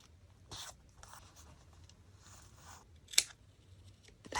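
Scissors snip through craft tape during a napkin-and-paper tote bag project, giving a couple of soft, close rustling cuts and one sharp louder snip, with no voices.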